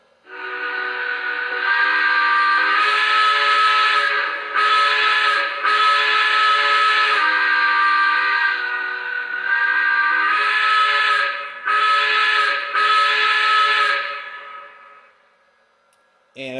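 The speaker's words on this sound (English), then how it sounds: "Here's the whistle, of course." A Lionel PRR Tuscan K4 model steam locomotive whistle blows loud and sustained for about thirteen seconds, with brief dips and changes in pitch, then stops, leaving a faint hiss.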